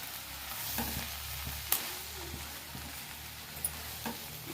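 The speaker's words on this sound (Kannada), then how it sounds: "ಈಗ ಅದ್ರ ಮೇಲೆ ಕೊತ್ತಂಬರಿ ಉದುರಿಸ್ಕೊಂಡು ಚೆನ್ನಾಗಿ ಕೊತ್ತಂಬರಿನ ಸೊಪ್ಪು ಕಾಳು ಜೊತೆ ಮಿಕ್ಸ್ ಮಾಡ್ಕೊಬೇಕು." A spoon stirs coriander leaves into a palya in a pan, faint soft scraping and light sizzling with a few brief sharper clinks of utensil against metal, no voices.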